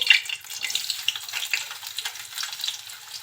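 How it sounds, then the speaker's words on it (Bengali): Chopped onion and dried chillies hit hot oil in a wok, a close, bright sizzle with bursts of crackle and stirring scrapes that rise and fall without any voices. "তেলের ভিতরে দুইটা শুকনো ঝাল আরও দিচ্ছি পেঁয়াজ কুচি"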